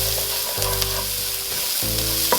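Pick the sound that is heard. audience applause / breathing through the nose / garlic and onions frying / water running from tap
garlic and onions frying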